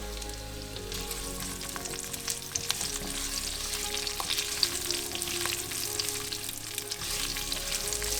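Roughly chopped onion fries with cumin and coriander seeds in hot oil for a tofu makhani, giving a steady close sizzle and crackle with scattered pops and light stirring, no voices.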